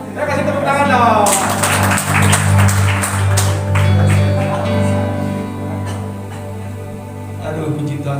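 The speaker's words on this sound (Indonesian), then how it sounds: "Ya, kasih tepuk tangan dong." Applause from a church congregation at a Sunday worship service, a burst of clapping that swells and then fades, mixed with sustained keyboard or organ tones and a voice speaking over it.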